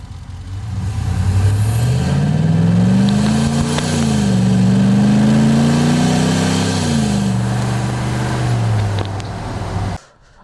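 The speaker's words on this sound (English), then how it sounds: "right now we're gonna do a small pull and I have a microphone in the engine bay" A loud car engine, recorded in the engine bay with a cold air intake, revs up through an acceleration pull, its drone climbing in pitch, dipping at a shift, then rising again before cutting off.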